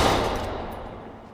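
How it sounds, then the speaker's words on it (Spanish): Gunfire in the video game Watch Dogs 2, a dense burst of rapid shots that starts loud and trails off over a second and a half, alone with no talk. "¡Alguien dispara!"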